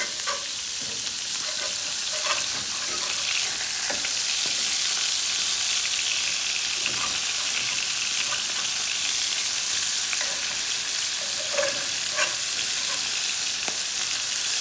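Hamburger patties fry in pooled grease right after being flipped, giving a dense, continuous crackling sizzle with small pops scattered throughout, close and steady with no talking.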